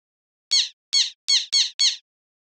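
Synthesized black tern call built by additive synthesis: five short, bright tweets in quick succession, evenly spaced and crisp against silence.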